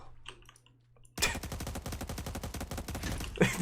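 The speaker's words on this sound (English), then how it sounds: "I heard gunshots." Gunfire in the video game Cyber Hunter erupts after a second of faint background sound into a loud, rapid automatic burst that rattles on continuously to the end.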